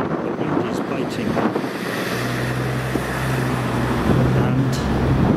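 Biting wind blowing outdoors on a sunny day buffets the microphone with a steady, loud rush and low rumble, while a faint engine-like drone hums underneath throughout.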